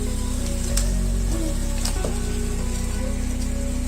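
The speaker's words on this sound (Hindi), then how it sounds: "तो हम लोग आलू फ्राई जो किए हुए हैं वो ऐड करेंगे इसमें।" Fried potatoes for aloo bhujia tip into a hot pan, giving a steady, close sizzle and hiss with a low hum beneath and a few brief clatters.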